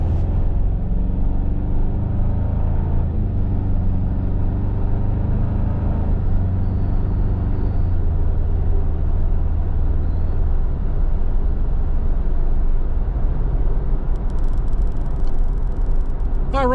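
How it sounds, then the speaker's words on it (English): Cabin of a 2025 Toyota 4Runner SR5 4x4 cruising at about 63–64 mph, a loud, steady low road rumble and engine drone with wind noise over it, continuous throughout. "we're up at highway speed now, about 63, 64 miles an hour. We are getting some wind noise"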